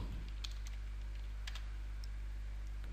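Soft keystrokes on a computer keyboard as a command is typed while setting up a Minecraft server, a few scattered clicks over a steady low electrical hum.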